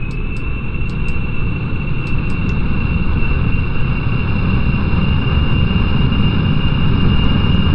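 A Kerbal Space Program aircraft engine at half throttle during takeoff, a loud continuous drone with a steady whine that holds unchanged throughout, punctuated by a few faint high clicks.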